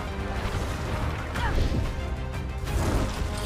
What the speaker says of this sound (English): The jet is being smashed!